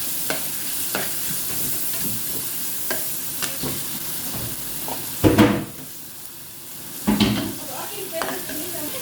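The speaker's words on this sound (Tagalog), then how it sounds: "Nagigisa na po ako ng bawang, sibuyas, kamatis." Garlic, onion and tomato sauté in a pan with a steady low sizzle, broken by clicks of a spatula and two louder bursts of stirring and scraping against the pan.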